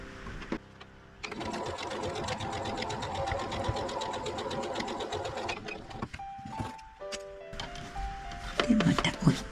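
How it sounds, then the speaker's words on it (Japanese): A sewing machine stitching patchwork fabric in a log cabin style runs in a fast, steady whir for several seconds, then stops, followed by quieter handling sounds and someone speaking. "縫っていきます。"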